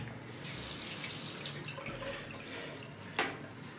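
Running tap water splashing steadily into a sink as a shaving brush is wetted, a continuous close rush with a brief sharper splash near the end, no talking.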